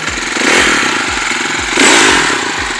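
A motorcycle engine fires up on a trail and chugs in quick, even, rhythmic pulses, loud and close, with a brief swell near the end.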